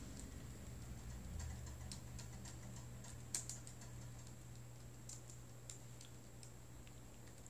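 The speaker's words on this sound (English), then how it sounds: "I'm gonna type in one phrase" Soft keystrokes on a computer keyboard come in an irregular run of light clicks, faint and close, over a low steady hum with no voices.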